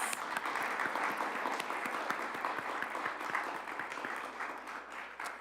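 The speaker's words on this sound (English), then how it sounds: "I'd love another round of applause" Audience applause fills a Sunday church service, a steady wash of many hands clapping at moderate loudness for the full stretch, with no talk over it.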